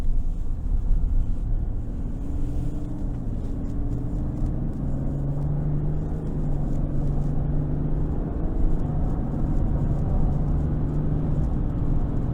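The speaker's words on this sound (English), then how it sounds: "I want to put this into sport mode and just see how it accelerates." Steady, smooth engine hum and road rumble from a 2023 Chevrolet Silverado 1500 High Country with the 3.0 turbo diesel accelerating gently in sport mode, a moderate, continuous drone with a slowly rising tone and no talk.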